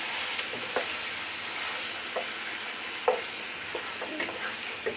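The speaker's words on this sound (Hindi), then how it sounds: "दो मिनट हमने इस मटन को करना है फ्राई।" Mutton pieces frying in a pot for korma, a steady moderate sizzle with occasional soft scrapes and clinks of stirring, close and without voices.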